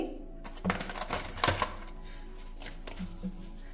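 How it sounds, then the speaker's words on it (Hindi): Tarot cards shuffled by hand in a few quick riffling bursts, crisp papery flicks and taps close by, with quiet gaps between them and no talk. "एक हाथ से शफल नहीं होते, तो इनको थोड़ा सा ऐसे शफल करना पड़ता है"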